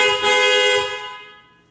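A loud aftermarket horn fitted to a Toyota Prius gives one short, bright, brassy blast up close, then rings out and fades over about a second.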